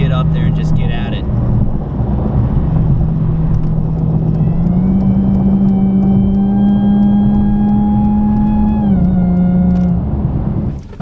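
Supercharged Pentastar V6 in a Dodge Challenger climbing through the revs on a test drive, a steady loud engine drone with a rising harmonic whine, continuous for the whole stretch with talk over it.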